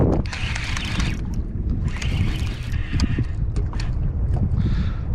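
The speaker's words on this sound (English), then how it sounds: "This wind is definitely starting to improve, at least in this area" Wind gusting across open sea while kayak fishing off Montauk in late summer, rough buffeting noise on the microphone with water splashes and knocks against the kayak hull.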